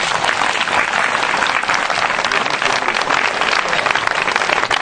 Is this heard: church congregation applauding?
yes